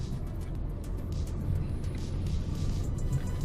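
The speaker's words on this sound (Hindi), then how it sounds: "अब अपने 4th गियर में मैं अपने गाड़ी को ला चुका हूं।" A car cruises in fourth gear, a steady low engine and road rumble from inside the cabin, continuous and moderately loud with no talking.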